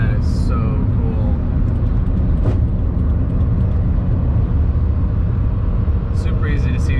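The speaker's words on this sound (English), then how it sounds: "Alright, so we got an Aventador pulling up next to us." Lamborghini Aventador pulling up alongside on a road near Malibu, a steady low engine rumble close by that stays loud and constant, with voices talking over it.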